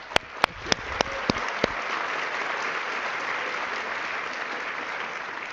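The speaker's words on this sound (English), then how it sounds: "I'm glad that you all clap" Audience applause at a SXSW onstage interview with AMD's CEO, opening with a few sharp loud thumps before settling into a steady, dense wash of clapping that continues evenly to the end.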